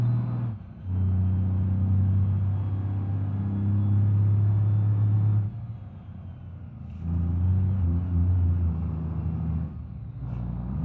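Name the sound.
heavy truck engine driving in BeamNG.drive video game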